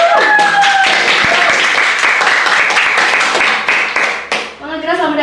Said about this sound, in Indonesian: Langsung saja kita sambut dengan tepuk tangan yang meriah ya